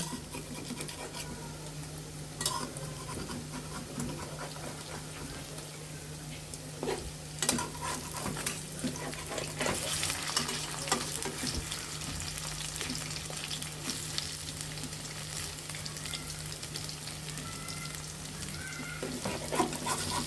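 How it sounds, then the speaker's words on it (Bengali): Peanut fritters frying in oil and being turned, a steady low sizzle throughout with a few sharp clinks and scrapes from turning. "এখন কিছুক্ষণ ভাজা হয়ে গেলে আমরা এরপর উল্টিয়ে দিব"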